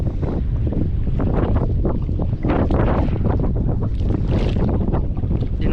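Strong wind blowing at the shore at high tide, with the water chest-deep, roaring and buffeting the microphone in a loud, continuous rumble with gusty surges throughout, no talk.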